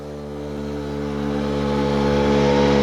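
An old moped engine running after sitting unused for 14 years, a steady droning idle with a slowly rising tone, close and loud, with no talking.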